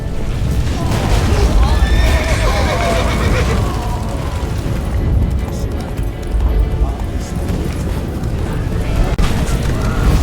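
A horse neighs loudly, a whinnying call amid rumbling booms and game action sounds, with a voice speaking at times.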